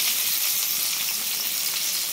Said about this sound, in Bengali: এখন পেঁয়াজ কুচি দিয়ে দেই।